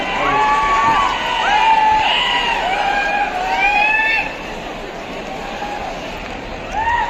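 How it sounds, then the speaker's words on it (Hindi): Large audience at a university event in Hisar, Haryana, cheering and whooping loudly, with a dense babble of crowd noise and rising shouts that fade partway through, then swell briefly again near the end. "आपकी तालियां इस बात का दिखाई है कि परिमल जी की लोकप्रियता हो सकती है।"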